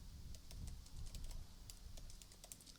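Typing on a computer keyboard while entering JavaScript code, a quiet stream of soft irregular key clicks at close range, with no talking.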